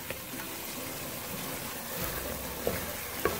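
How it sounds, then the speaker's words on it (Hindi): Beef frying in a paste of onion, garlic and ginger for biryani, giving a soft, steady sizzle close by that runs continuously, with a couple of faint clinks of stirring near the end. "प्याज, लहसुन, अदरक के पेस्ट में गोश्त को अच्छी तरह से फ्राई कर लिया है"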